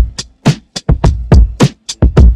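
A drum beat from a remake of a beat, with Utopia Kick 11 and Utopia Snare 87 samples layered in: punchy kicks and snares hit in a steady pattern, loud and close, with nothing else playing.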